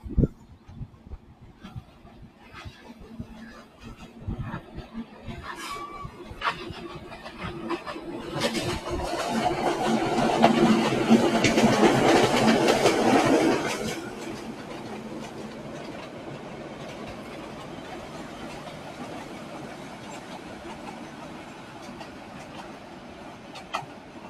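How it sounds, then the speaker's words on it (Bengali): A small local train rumbles past near the Brahmaputra River in Mymensingh with rhythmic clickety-clack of wheels, growing louder to a peak midway and then fading into a softer, distant rumble. "খুবই ছোটো মোটো একটা ট্রেন আপনাদেরকে একটু দেখাই"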